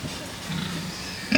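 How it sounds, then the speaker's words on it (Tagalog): A pig with sores on its ears and a body covered in welts grunts and snorts steadily and close by in a rainy farmyard, with a sharper noise at the end. "tulungan niyo ang baboy niyo na kawawa naman, puro sugat yung tainga"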